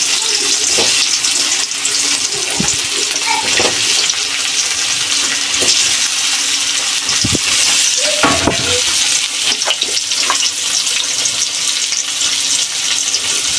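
Salted potatoes with turmeric fry in hot oil in a wok. A continuous close sizzle is broken by occasional scraping and clinking stirs.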